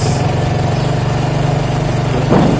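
A 2008 Yamaha Vixion fuel-injected motorcycle engine with a stalling and charging fault runs close and loud at a steady idle with an even rhythmic pulse, ending in a brief rise.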